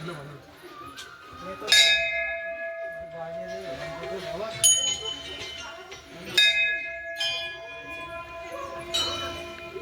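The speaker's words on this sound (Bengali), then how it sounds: "ঘন্টাটা বাজা তো" A bell high up in cold Gangtok is struck about four times at uneven intervals. Each bright clang leaves a long shimmering ring, and voices talk around it.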